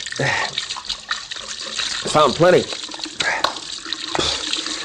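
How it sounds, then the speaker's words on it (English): Cold water runs from a faucet in steady splashing bursts while someone speaks briefly over it, the flow close and fairly loud. "I'm going to duck my head under the cold faucet."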